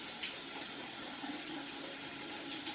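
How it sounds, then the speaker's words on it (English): Cold water runs from a tap in a steady, hissing, splashing stream, close and continuous with no talking. "Cold water."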